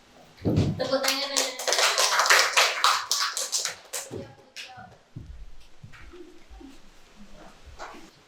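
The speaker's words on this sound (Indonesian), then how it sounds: "Tepuk tangan." Children in a classroom break into applause after a group presentation, a burst of many hands clapping together for about three seconds, then trailing off into scattered claps and quiet murmurs.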